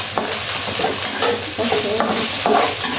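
Boiled chicken gizzards and meatballs stir-fried in a pan with egg, a steady close sizzle of hot oil broken by repeated scraping strokes of a spatula.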